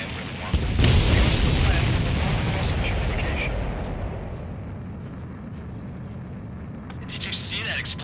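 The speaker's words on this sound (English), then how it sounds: "Did you see that explosion?" A huge, booming explosion of a supply ship in the Ace Combat 7 video game erupts loudly and rumbles on, fading into a sustained roar with crackling debris.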